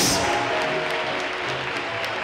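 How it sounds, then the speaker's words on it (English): Audience at a haute couture fashion show applauding, a dense burst of clapping that starts loud and thins out over a couple of seconds, with a voice briefly audible. "Let's give Marlene another big round of applause"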